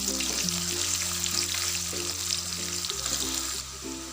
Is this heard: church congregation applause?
no